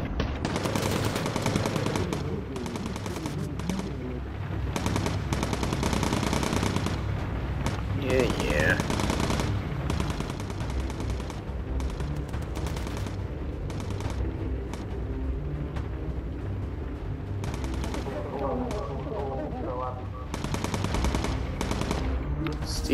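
Rapid machine-gun bursts from a bomber's gunners in the video game Bomber Crew rattle on and off over a steady engine drone, with players talking over the firing throughout.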